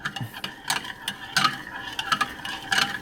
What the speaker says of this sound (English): We're gonna take our spoon, we're gonna mix it up.